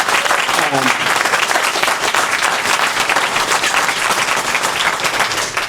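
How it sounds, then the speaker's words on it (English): Crowd at a press conference for a women's college basketball team, North Alabama, applauds in a loud, sustained, dense burst of clapping, with a few voices underneath. "So let's give them all a round of applause"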